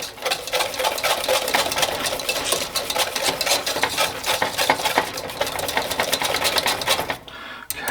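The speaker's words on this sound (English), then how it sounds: "We're just going to mix it together." Chocolate pecan pie filling being mixed in a bowl, a steady, dense whirring like a hand mixer running continuously at close range, with faint scraping, then cutting off abruptly near the end.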